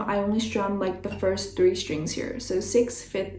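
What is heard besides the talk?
No distinct noise like a dog, phone or traffic.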